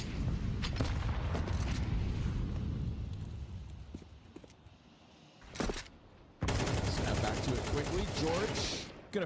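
Rifle fire sprayed during a Counter-Strike match, loud rapid bursts of automatic shots in two main stretches separated by a quieter gap, with a commentator talking over the action.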